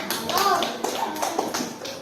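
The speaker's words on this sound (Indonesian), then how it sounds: "Tepuk tangan dulu. Tepuk tangan." A classroom group claps hands in a short, fairly close burst of taps over about two seconds, mixed with children's voices and light shuffling.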